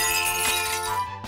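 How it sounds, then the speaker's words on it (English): A cartoon gag of glass cups breaking from a honking horn: a bright, ringing tonal blast with glassy clatter, loud and brief, fading abruptly after about a second. "breaking glass cups by honking the horn!"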